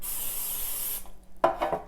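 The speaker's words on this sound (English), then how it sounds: "spray our loaf pan" A can of nonstick cooking spray hisses steadily onto a loaf pan for about a second, close and loud, followed by a few faint clinks and rubbing sounds.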